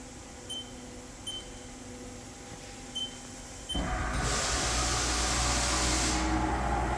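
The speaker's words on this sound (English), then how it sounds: "I'll move the axes." A 2006 Haas VM3 CNC mill starts moving its axes after a quiet stretch of faint electronic beeps, then a steady loud whirring motor hiss that holds to the end, with a brighter high hiss for a couple of seconds.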